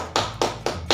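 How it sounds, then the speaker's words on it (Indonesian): Four sharp claps of applause in a classroom, evenly spaced and fairly close, with no voices. "Kita kasih aplaus untuk Sarifah"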